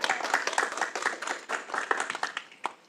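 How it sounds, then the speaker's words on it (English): Conference audience clapping for the event's volunteers at an Apple II gathering, a brisk scatter of individual hand claps from a modest crowd, fairly close and steady throughout with no talking. "let's give them a round of applause"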